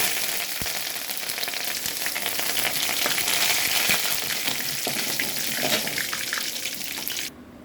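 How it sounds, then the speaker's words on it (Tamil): Hot oil tempering with mustard seeds, urad dal and curry leaves sizzles loudly and steadily as it is poured into sesame tomato chutney. The frying hiss stays close and continuous, then cuts off abruptly near the end. "இப்போ சட்னியை தாளிச்சதை கொட்டியாச்சு"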